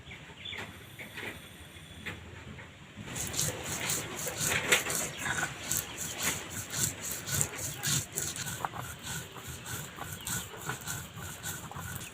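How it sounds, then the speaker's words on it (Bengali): White and black mustard seeds are ground together on a stone, a close rhythmic rubbing and grinding with repeated back-and-forth strokes, building after a quieter start. "এখানে আমি দু চামচ সাদা সর্ষে আর তিন চামচ কালো সর্ষে নিয়েছি এবার দুটো একসাথে বেটে নেব"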